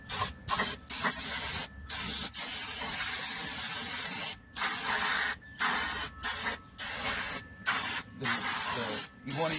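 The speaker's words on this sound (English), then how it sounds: "I want to spray down my rotor so I can get behind it" Brake cleaner from an aerosol can is sprayed onto a new brake rotor during a brake job, in about ten close, loud hissing bursts separated by brief pauses.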